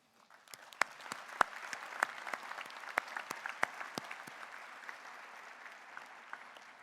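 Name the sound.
audience applauding graduates' families at convocation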